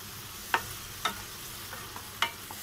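A curry base of coriander powder, turmeric, salt and spices for rohu fish egg curry is stirred in a pan, with a faint sizzle under a few distinct spoon clinks against the pan.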